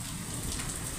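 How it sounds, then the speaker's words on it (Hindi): Heavy rain pours just outside a closed door in a snowy mountain setting, a dense steady hiss that fills the whole stretch at moderate loudness. "मैं तो गाइस को दिखा दे कितने मज़े की बारिश हो रही है।"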